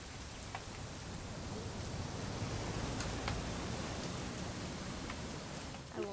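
Steady rain in the video game What Remains of Edith Finch hisses evenly across the whole stretch, dense and soft, with a few faint ticks and drips scattered through it.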